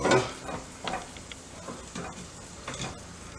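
Bacon and sausages frying in a pan, a steady low sizzle broken by several clattering stirs and turns of the meat, heard close up with no talking.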